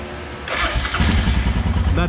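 Royal Enfield Himalayan motorcycle engine cranking on its starter, a short burst of rapid churning and rattle that begins after a brief pause and continues to the end, close and fairly loud.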